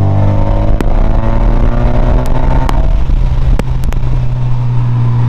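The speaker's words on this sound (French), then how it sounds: "Et écoutez le moteur." A Renault Spider sports car engine drones steadily and loudly throughout as it revs, with a few sharp clicks and ticks over the continuous low rumble.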